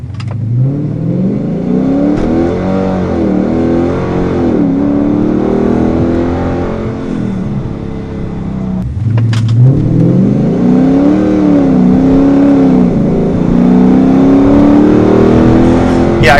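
A car on Nitto NT555 G2 tires spins its wheels as the engine revs hard, loud rising and falling surges close by, dipping briefly midway before climbing again.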